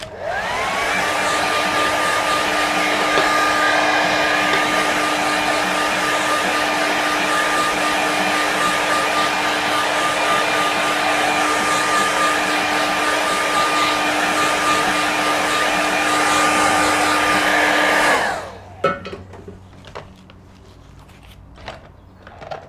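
A hair dryer quick-dries a loose watercolour painting of boats and a harbour, blowing with a loud, steady whine for about eighteen seconds before it switches off, followed by faint handling noises.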